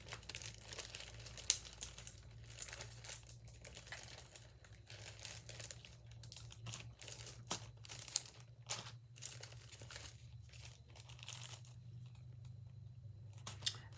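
Sticker sheets are handled and crinkled close by at a junk-journal craft table, with quiet irregular rustles, crackles and soft taps and no talking.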